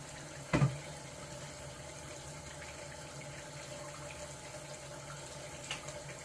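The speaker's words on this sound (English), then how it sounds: "That's the coffee oil. It's coming to a boil." Coffee oil heating in a pot toward a boil gives a faint, steady watery bubbling hiss, with one sharp clunk near the start and a soft knock near the end.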